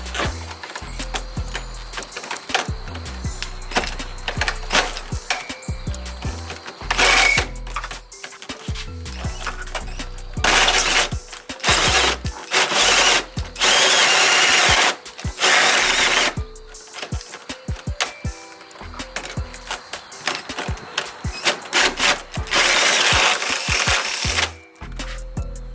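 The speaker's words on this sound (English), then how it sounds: "we're gonna take our same drill and we're gonna drill them out" A drill bores out fasteners inside the door of a 2013 Ford Fusion, with loud bursts of high whining and grinding that start and stop in irregular spurts, interspersed with clunks and rattles from the door panel.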